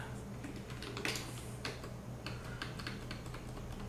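Rapid, light keyboard presses tapping out a repeated Photoshop shortcut (Ctrl Alt Shift T) on a computer keyboard, clicking in irregular bursts over a steady low hum.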